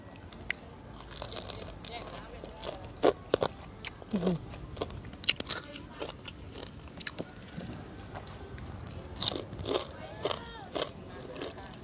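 Crunchy bites into deep-fried crispy whole roast pig skin, repeated close crackling crunches and chewing, with someone talking over parts of it.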